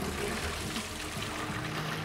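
Water runs from a tap into a carboy being rinsed of hops and yeast, a steady close trickling rush with a faint gurgle.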